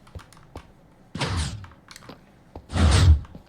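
Minecraft piston door triggered by waterlogged sculk sensors: two heavy thunking bursts about a second and a half apart, the second louder and fuller, with faint clicks scattered between them.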